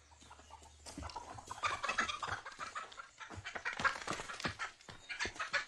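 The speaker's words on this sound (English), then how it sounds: "Give me one of those chickens." Chickens clucking and squawking nearby in a farmyard, a run of short irregular calls rising and falling in loudness, fairly faint overall with a low hum beneath.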